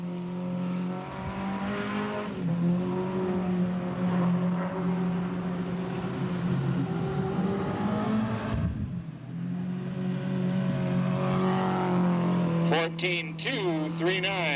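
A mini stock race car's engine drones steadily during time trials at Delta Speedway in 1996, a sustained rumble that rises and falls as it circles the track, heard beneath a public-address announcer talking throughout.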